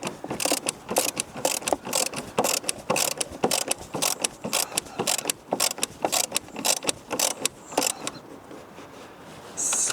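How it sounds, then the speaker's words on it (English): A ratchet wrench works a spark plug on a Ford C-MAX, giving a steady run of close, rapid metallic clicks in short repeated bursts, with no talking. "if you had an extension, you could go right here and put your ratchet right here."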